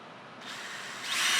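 A power drill bores through a sandwich panel of polyurea skins around a foam core, a steady close whir that rises in pitch and grows louder as the bit bites in.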